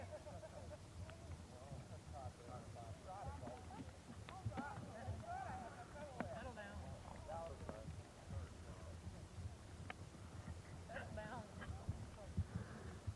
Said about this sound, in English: Here's the Wrangler, whose horse is really full of energy.